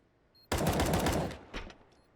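A rapid burst of automatic gunfire in Counter-Strike: Global Offensive, loud and close, followed by a couple of fainter trailing shots before quiet returns.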